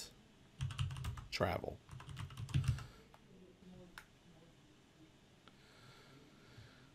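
Keys clatter on a computer keyboard while someone enters text into a PowerPoint slide, a few quick bursts of close taps, with brief speech at one point and quieter stretches of room noise.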